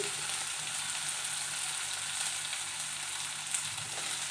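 Shallots, garlic and green chillies sauté in hot oil for a mint chutney, giving a steady, close sizzle and fry that holds evenly throughout with no talking.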